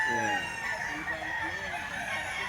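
Chickens for sale cluck and call in a dense, noisy crowd at a market, with a rooster crowing amid the steady background din.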